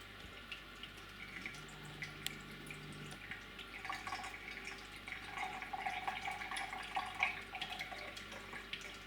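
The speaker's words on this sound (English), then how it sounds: "that stream that's leaking out the side is getting bigger and bigger and bigger" Water leaks from the side of a filling container, giving soft, irregular drips and a thin trickle over a low background hum, faint and close, with no talk.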